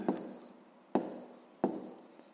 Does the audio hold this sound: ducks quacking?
no